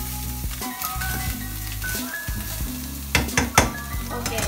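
Bangus fish sisig is stirred in a hot pan, with a steady sizzle and repeated scraping and clinks of a utensil against the metal, louder near the end.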